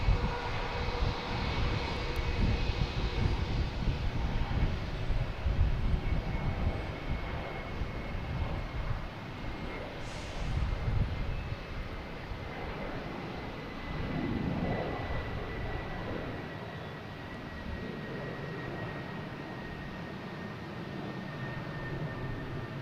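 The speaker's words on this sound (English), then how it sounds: "We have a Delta taking off in E175" A Delta Embraer E175 airliner takes off at a distance, its jet engine roar broad and steady, swelling and slowly easing as it climbs, heard alone outdoors.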